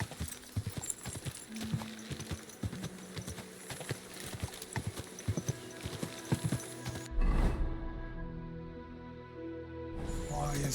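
Horse hooves in the video game Kingdom Come Deliverance 2, a quick, regular clip-clop of galloping steps, followed by a neigh and then a quieter stretch of ambient game sound.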